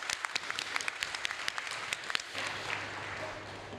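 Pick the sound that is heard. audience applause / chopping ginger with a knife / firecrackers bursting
audience applause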